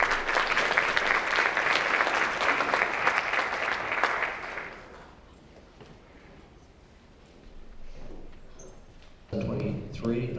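Audience applause at a high school class night scholarship awards ceremony, a dense steady clapping that fills the room for several seconds before fading, then a quiet pause and a voice speaking over a microphone.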